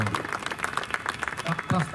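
An audience at a monthly community gathering breaks into brief, scattered clapping to congratulate a speaker. The clapping is fairly close, with voices talking over it.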